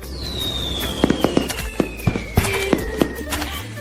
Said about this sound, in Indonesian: Kita di sini menyalakan kembang api.